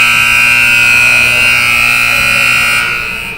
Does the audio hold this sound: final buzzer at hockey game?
yes